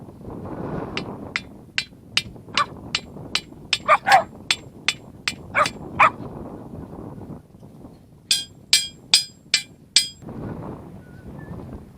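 Repeated sharp, ringing strikes land in a steady rhythm, about a dozen blows, then a short pause and a second burst of louder knocks, struck with a wood block over a low background rumble and some muffled talking.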